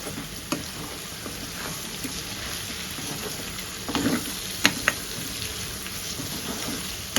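Potato fry with chicken masala and cumin powder sizzles quietly in a pan while a spatula stirs it, with occasional sharp clinks and scrapes against the pan over a soft, continuous frying hiss.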